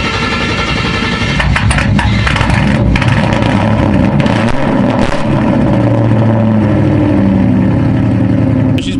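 A Ford Mustang with a very loud exhaust, its engine droning and rumbling steadily up close while driving, with a few gear-change surges and no talking.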